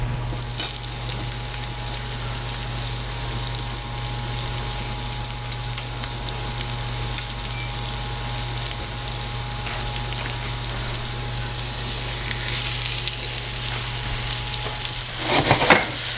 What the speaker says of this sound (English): So now we are just going to cook our pork chops until they are golden brown on both sides.